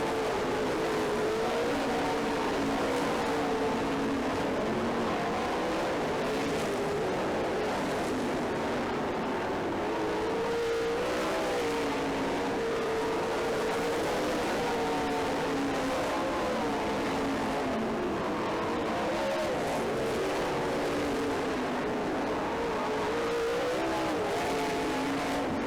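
Race cars circling a track in a heat race, a steady, continuous drone of several engines rising and falling as they run nose to tail, heard from a moderate distance without talk.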